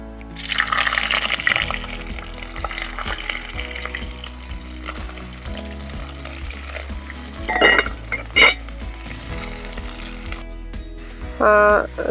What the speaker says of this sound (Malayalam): അത് നമുക്ക് ചെറുതായിട്ട് വറുത്തെടുക്കാം